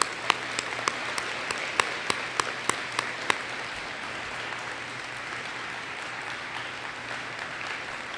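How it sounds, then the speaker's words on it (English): Audience applause at a 2021 school awards assembly for award winners, a steady wash of many hands clapping at moderate volume for the whole stretch, with a few sharper individual claps standing out early on. "Let's please give all of our award winners a round of applause."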